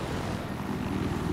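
A helicopter in Battlefield 4 drones steadily with a low, throbbing rotor pulse, fairly quiet and continuous with no break across the short stretch.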